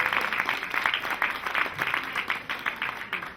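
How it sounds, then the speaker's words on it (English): Applause at an 80th birthday celebration, a steady round of many hands clapping indoors, moderately close and continuous for the full few seconds. "Another big round of applause for Genevieve."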